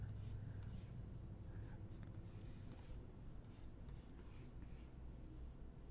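Pen or pencil drawing cartoon character lines on paper, a steady close scratching and rubbing of the tip across the sheet that continues for the whole stretch, with no one speaking.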